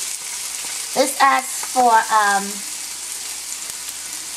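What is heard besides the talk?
onions frying for homemade egg rolls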